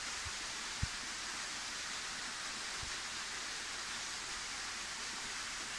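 Steady broadband rush of falling water fills the whole clip, a constant waterfall roar with a few faint low thumps.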